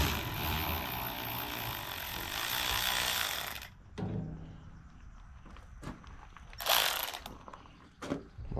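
Ratchet and socket working the valve cover bolts on a 1953 John Deere 40 tractor: a long continuous ratcheting whir, then silence broken by a few sharp metallic clicks and knocks, close by.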